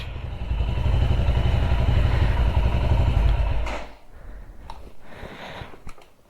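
A Royal Enfield Himalayan fitted with a 36-tooth rear sprocket rumbles loudly and steadily while riding, then the engine note drops away to a quieter idle with a few faint clicks.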